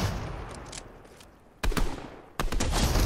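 Gunfire in the Fortnite video game, a loud rattling burst of rapid shots that fades, then two more sharp volleys after brief gaps, close and punchy.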